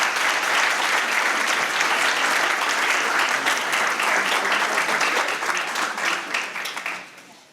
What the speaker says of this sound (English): So if you'll give a round of applause,